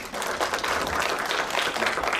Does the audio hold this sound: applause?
yes